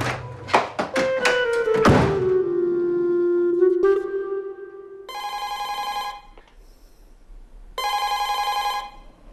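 Several sharp knocks and a sustained ringing tone open the scene, followed by a telephone bell ringing in two loud, clear bursts separated by a short pause, in a quiet room.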